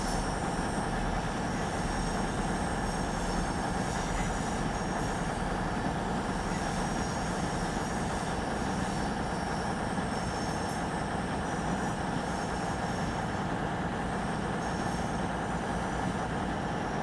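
Trains moving through a busy station in the Train Sim World game, Birmingham Cross City route, with a Class 170, a Pendolino and a Voyager present: a steady, loud rumble of rolling stock and wheel noise, with faint squeal, continuous throughout without talk.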